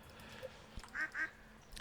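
A duck in the Stardew Valley farming game quacks twice in quick succession after being petted, two short clear calls over a faint, steady background game ambience.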